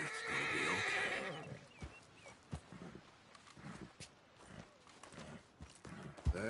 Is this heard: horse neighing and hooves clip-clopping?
yes